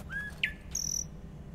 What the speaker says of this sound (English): That's a very loud bird tweet.